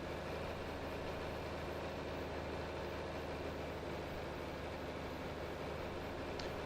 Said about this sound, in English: Can't ruin this tractor. It's my only one.